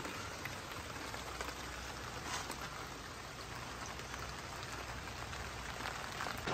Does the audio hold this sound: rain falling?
yes